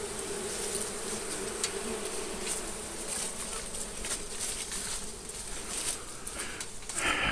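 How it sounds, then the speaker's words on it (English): Honey bees buzz steadily from a hive behind a chimney, a dense, continuous drone heard close up with no talking. "the bees are starting to get a little bit aggressive and stirred up"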